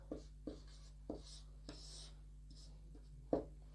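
Pen or chalk writing by hand while working a class 10 math problem, a series of short scratchy strokes in an irregular rhythm, close and quiet with no talking.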